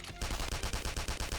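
Rapid burst of gunfire from a gun attack in the video game Persona 5 Royal, about eight evenly spaced punchy shots in quick succession, with no talking.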